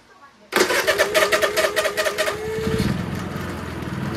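A Honda EU3000is inverter generator running on propane cranks with a sharp onset and rapid pulsing bursts, then catches and settles into a steady, loud running hum close by.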